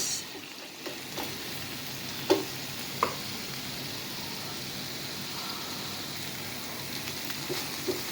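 Bitter gourd and eggs sautéing in a pan give a steady, faint sizzle throughout, with a few soft clicks and stirring taps, and no one speaks.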